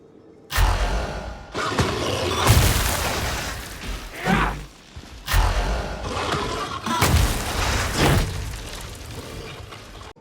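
Explosions from a hound blitz in Warhammer 40,000: Darktide, heard as a series of loud booming bursts and thuds spread across the span, with brief lulls between the blasts and no talk.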